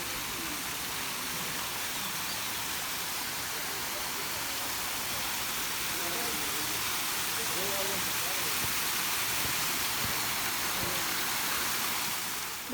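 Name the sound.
small waterfall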